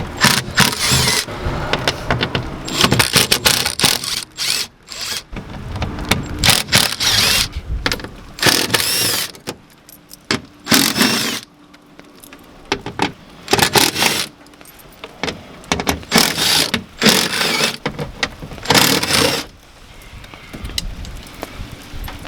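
Metallic clinks, rattles and scraping as black bolts are worked loose from the door vapor barrier of a Nissan 370Z with its passenger window out, in repeated bursts with brief quiet gaps.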